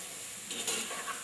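Meat dropping into a hot pot, giving a soft broad sizzle that swells briefly and then holds steady, close and fairly quiet, with no voices.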